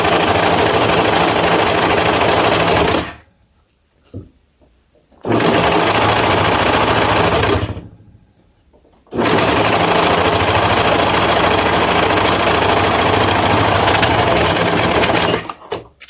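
A serger fitted with a gathering foot runs fabric through in long, loud, continuous bursts, stopping twice briefly before starting up again, on a practice run gathering fabric.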